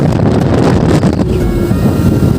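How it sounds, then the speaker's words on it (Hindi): Heavy rain and gusting wind during a trek in Odisha hit the microphone as a loud, continuous buffeting roar with a dense wash of noise and no voices. "क्योंकि ना जोर से बारिश आ रही है अभी, देख सकते हैं।"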